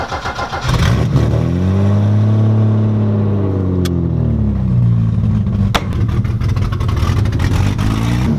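A BMW E30's engine starts and revs, a loud steady mid-range engine drone with rising and falling rev sweeps, close by and with no talking.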